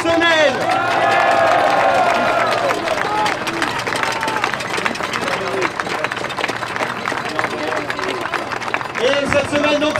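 Crowd at an outdoor protest rally in Paris clapping and cheering loudly and steadily for about ten seconds, with voices and shouts mixed into the dense applause.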